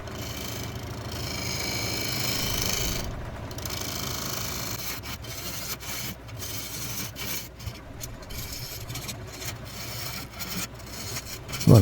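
Lathe tool cutting a tenon on the base of a turning wooden bowl, a continuous close rasping scrape with brief dips in intensity, no talking.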